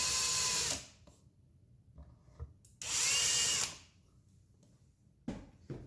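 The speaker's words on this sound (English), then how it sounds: "I'm going to take a drill bit that's just a little bit smaller than the hole" A power drill fitted with a slightly undersized bit drills into wood while drawer slides are installed on a kitchen cabinet. It runs in two loud sustained bursts of about a second each, with quiet handling noises in between and a third burst starting near the end.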